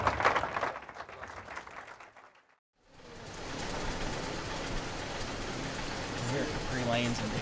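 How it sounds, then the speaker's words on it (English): Applause at a 2010 junior masters youth bowling tournament for the two finalists: a dense burst of clapping that cuts off abruptly, then a second wash of crowd clapping and bowling-center noise with faint voices underneath. "Please give our two finalists a round of applause."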